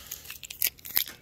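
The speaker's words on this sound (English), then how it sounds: "It's like ripping the vinyl." A vinyl decal is peeled off a 2019-or-later Silverado or Sierra third brake light in the cold, giving a few short, close tearing crackles within about a second.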